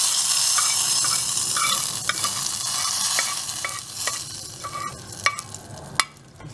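Spices spluttering in hot ghee for a Sivakasi-style kadalai paruppu kuzhambu, a steady crackling sizzle with scattered sharp pops that grow louder toward the end, no voices.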